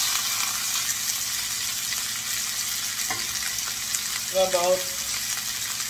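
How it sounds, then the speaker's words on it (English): Chicken pieces fry gently in a pan for soy-sauce garlic braised chicken, a steady close hiss of sizzling oil with a short voice rising briefly over it. "I'm going to gently fry it on both sides so they get some color."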